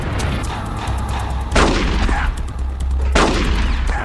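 Gunfire in Metal Gear Solid: The Twin Snakes, loud close shots in two bursts with a sharp blast at about 1.5 seconds and another at about 3.2 seconds, over a steady low rumble of game ambience.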